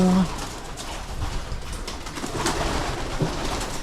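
Pigeons coo in short low calls a few times over a steady background hum, with faint voices nearby.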